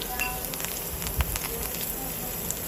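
Asafoetida, curry leaves and green chillies are tipped into hot oil for a Gujarati sev khamani tempering, producing a continuous close sizzle and crackle with a few sharp pops.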